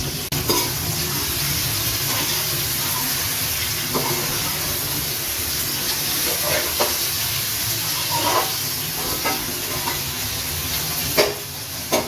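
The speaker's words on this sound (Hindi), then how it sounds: "प्याज को हमने ज्यादा ब्राउन नहीं करना, हमने हल्का सा फ्राई करना" Onions fry lightly in oil with a steady, close hiss and occasional stirring clinks, continuing throughout without any voices.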